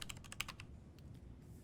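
Quick run of keystrokes on a computer keyboard, about seven crisp taps in a burst, then a few softer clicks, close and quiet.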